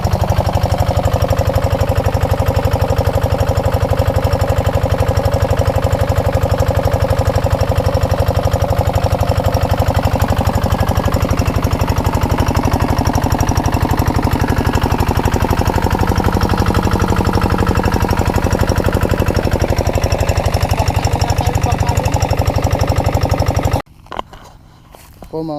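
A newly bought Voltron weed-spraying machine's engine runs steadily and loudly at close range for about 24 seconds with a constant mechanical drone, then cuts off abruptly near the end.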